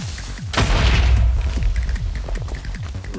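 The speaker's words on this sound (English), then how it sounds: "Look at the explosion range." Video game explosions in Minecraft boom in a heavy burst, followed by a rapid string of smaller thuds and pops that trail off over a few seconds.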